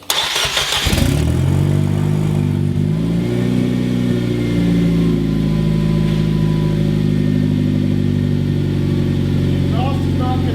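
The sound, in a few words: Nissan Juke engine first start, exhaust not connected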